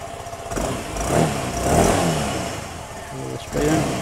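A 2021 SYM Fiddle 125cc four-stroke scooter engine revs in several rising bursts over a lower idle, heard close and fairly loud with some background noise.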